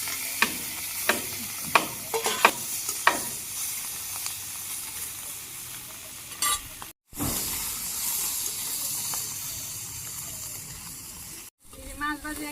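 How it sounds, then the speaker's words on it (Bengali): Fish pieces drop into hot oil with a few sharp splashes at the start, then fry in a steady, close-up hiss and crackle, with two brief cuts to silence. "মাছগুলো দিয়ে দিই"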